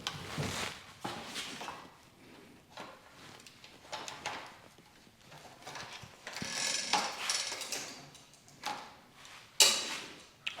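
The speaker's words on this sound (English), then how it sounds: "I'm going to swing around the other side and drop this wheel out of its spot." A bicycle wheel is dropped out of its frame dropouts after the chain is shifted to a small rear cog, giving a run of close mechanical ratcheting clicks and light rattles at moderate level, with no talking.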